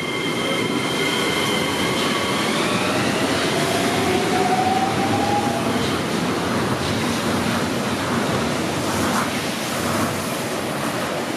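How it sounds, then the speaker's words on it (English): The Tokyo Monorail train departs Hamamatsu-cho station with a loud, steady rushing roar and a rising motor whine that glides upward, heard close and continuous without voices. "here's Tokyo Monorail departing Hamamatsu-cho station"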